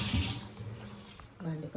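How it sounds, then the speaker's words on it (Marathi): Tap water runs steadily into water bottles at a home kitchen sink, a close, rushing stream that changes tone slightly as a bottle fills, with a brief voice near the end. "आता पाण्याच्या बाटल्या भरून घेते"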